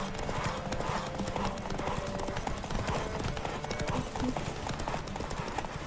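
Horse hooves clip-clop in a steady, continuous trot in the video game The Witcher 3, loud and busy, layered over game ambience and music.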